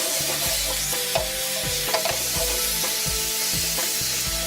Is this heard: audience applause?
no